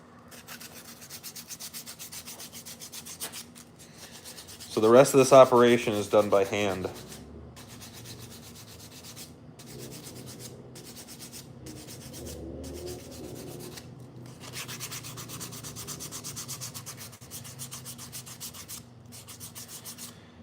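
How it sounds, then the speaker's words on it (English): Steady rhythmic rasping of sandpaper rubbed by hand on a wooden slingshot, louder in one brief burst, with someone speaking briefly. "I'm going to start sanding this"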